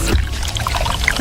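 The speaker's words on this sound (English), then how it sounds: "Listen to that cascading liquid." Coke Zero Sugar pouring and fizzing, a steady close wash of liquid and bubbles that carries on through the whole short stretch with no voice over it.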